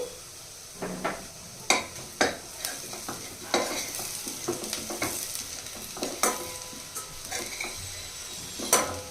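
Half a teaspoon of turmeric fries in hot oil in a pan, a soft continuous sizzle broken by frequent sharp clacks and scrapes of a spoon stirring against the metal, close by and without talk.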